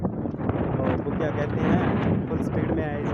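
Strong wind gusts roar steadily across the microphone during a desert walking pilgrimage to Ramdevra, a loud, continuous rushing noise that fills the whole stretch.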